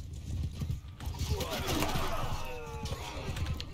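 Horses gallop in the medieval battle game Mount and Blade II: Bannerlord, a rapid clip-clop of many hooves mixed with whinnies and battle clatter, with a voice speaking over it.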